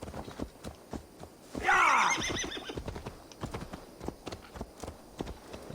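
A horse in Assassin's Creed Valhalla lets out one loud, shrill whinny that falls away, surrounded by steady clip-clop hoofbeats throughout.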